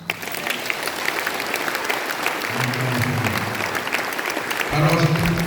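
Congregation clapping steadily in a church, with voices rising over the applause partway through and again louder near the end.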